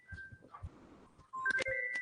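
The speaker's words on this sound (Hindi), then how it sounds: "क्लास प्लस को फोन आया है यार" A phone rings with an incoming call, its electronic tone cutting in loudly in the last second after a quiet stretch of faint room sounds.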